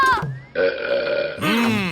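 A cartoon character lets out a loud, drawn-out burp with a wobbly, gurgling tone, followed by a second rising belch near the end.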